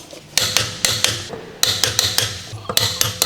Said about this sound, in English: using the 22mm wheel socket with the large short extension bar and torque wrench to tighten the lug nuts